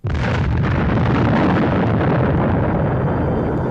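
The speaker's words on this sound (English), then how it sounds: "Therefore, the explosion was solely within the confines of the ship and had to be an accidental explosion." The battleship USS Maine explodes in 1898: one sudden loud blast that rolls on as a dense, sustained rumble without fading.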